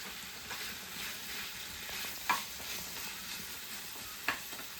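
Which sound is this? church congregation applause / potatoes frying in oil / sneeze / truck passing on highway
potatoes frying in oil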